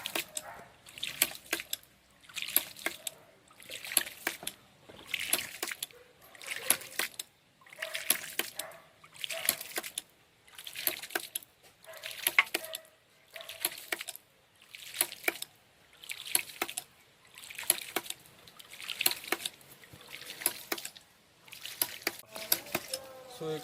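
Water splashes and trickles in a steady pulsing rhythm from the outlet pipe of a free energy water pump, surges repeating roughly every second or two, close and fairly quiet.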